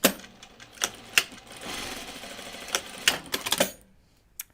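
Sewing machine stitching the center back seam of a Kelly anorak, a rapid clattering run of needle strikes with sharper knocks scattered through it, close and alone, ending in quiet.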